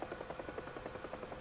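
The rotor of a Huey helicopter in the DCS World flight simulator beats in a steady, rapid rhythmic chop, fairly quiet and heard alone without talk.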